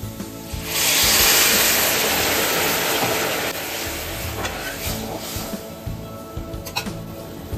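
Water poured into a hot pot for basanti pulao, a loud rushing hiss and sizzle that swells at the start, then settles into a steady bubbling steam.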